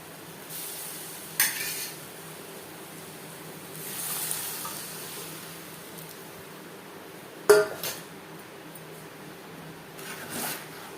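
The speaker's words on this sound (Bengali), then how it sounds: "মশলার সাথে ডাল বেশ ভালো করে মিক্স করে দেব।" Boiled moong dal stirred into fried spices and roasted cumin in a pot for a vegetarian dal, with a few clanks of a spoon against the metal and soft stirring between them, close and fairly quiet.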